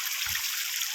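Borewell water welling up out of the casing on a farm field, a steady rushing, hissing flow held close and even throughout, with no voices.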